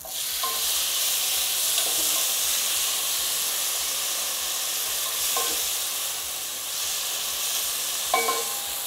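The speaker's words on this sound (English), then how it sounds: "So I'm going to add my tomatoes." Tomatoes dropped into hot oil in a pan set off a constant, loud hissing sizzle, with a few faint clinks of a utensil along the way.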